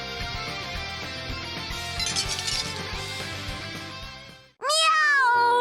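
A cat character meows in the BlazBlue: Continuum Shift Extend fighting game, one bright drawn-out meow with a few quick mews right after a stretch of dense game music and effects that cuts out just before it.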